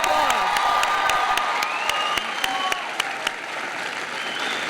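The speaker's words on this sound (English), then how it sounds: "Let's give Linda a round of applause." A crowd at Michelle Obama's 2012 rally in Racine, Wisconsin bursts into dense, sustained applause, with scattered whoops and cheers riding over the steady clapping.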